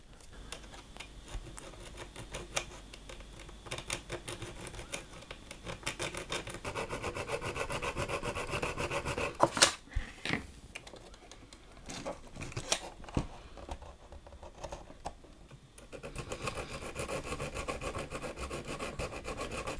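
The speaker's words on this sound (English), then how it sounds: "I'm gonna use this file and make some grooves" A hand file cutting grooves, most likely into a Polaroid SX-70 part, with continuous close rasping strokes in a steady back-and-forth rhythm and a few louder knocks and pauses midway.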